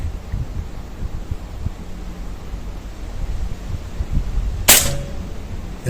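A single air rifle pellet shot cracks sharply near the end, set against steady outdoor wind noise on a very windy day.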